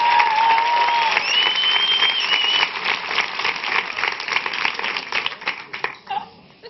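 A television studio audience gives a guest lively applause, dense clapping with a few cheers and a little laughter that breaks into scattered claps and tails off.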